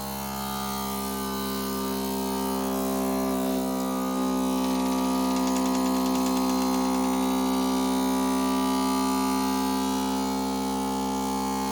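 A vacuum sealer pumping air out of a jar holding Halloween candy, a loud, steady motor drone with a strong tonal whine that holds unchanged throughout.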